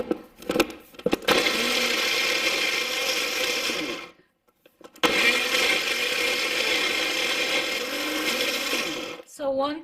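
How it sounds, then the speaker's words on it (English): A blender whirs loudly while crushing black-eyed beans with water, starting in a few short bursts, running steadily, cutting out briefly, then grinding on again before stopping. "Let's just put in a little bit of water and blend this baby up."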